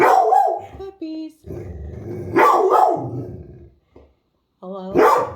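An aggressive dog barks and growls in sharp bursts, close and loud, while a person speaks calmly in between.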